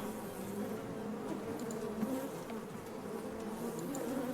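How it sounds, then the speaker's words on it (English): Steady, continuous insect buzzing in the video game Shadows Over Loathing, a close droning hum that holds evenly throughout with no speech. "the buzzing is gonna be real annoying over time"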